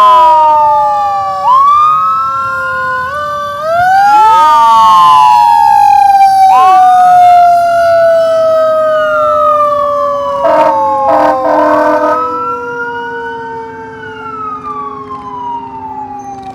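Allen Volunteer Fire Department Engine 3 fire truck passing in a Harrisburg Fourth of July parade, its siren wailing loud and close in overlapping rising and falling sweeps, with brief horn blasts near the end before the wail fades.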